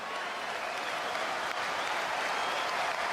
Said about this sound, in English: I think you can hear the crowd reception, Justice